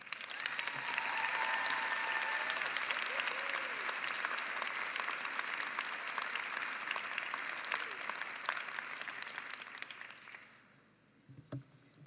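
Sustained audience applause for student speakers at the Lesley University 2019 commencement morning ceremony, a broad steady clapping wash that holds for about ten seconds before tapering off to a few scattered claps.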